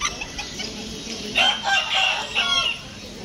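Rooster crowing at a chicken expo: one fairly close, drawn-out crow broken into a few strained bursts, heard over a low murmur of background chatter.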